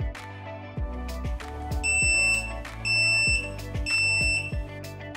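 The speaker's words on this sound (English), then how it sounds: "Nauticam's moisture alarm electronics are included" Moisture alarm in a Nauticam underwater housing for a Komodo camera, sounding three shrill electronic beep bursts over a droning, tonal background.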